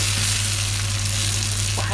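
Tomato juice sauce sizzling loudly in a pan as it simmers, a dense, constant bubbling hiss with a low steady hum underneath, close and unbroken.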